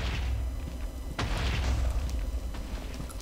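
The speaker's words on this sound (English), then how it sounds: "There's a lot of explosions," Spontaneous explosions go off in a Minecraft Feed The Beast world, with a dull booming blast over a rumbling game soundscape.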